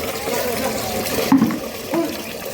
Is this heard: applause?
no